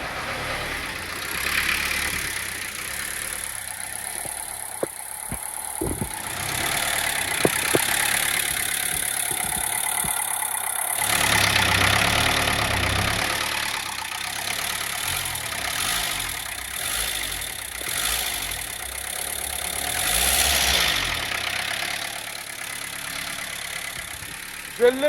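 A collector's car idles steadily for a long stretch, a loud, even engine rumble with some rough fluctuation and brief mechanical clicks, heard close up with no talking over it.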